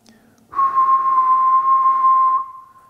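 A person whistles one steady, clear tone for about two seconds, loud and close, with near silence before and after.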